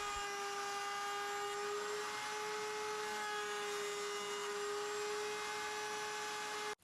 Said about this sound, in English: I put the board back on the shaper and I take it to the router